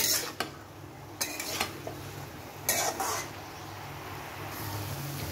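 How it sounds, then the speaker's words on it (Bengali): Wild arum curry is stirred and mixed in a pan over high heat, with a few sharp spoon-on-metal clinks and scrapes over a low, steady kitchen rumble. No one speaks. "এখন আমি নেড়ে চেড়ে মিশিয়ে নিচ্ছি।"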